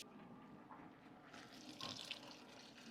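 Cold water runs from a tap into a pot for Jamaican stew peas, a faint steady stream that grows brighter and splashier partway through.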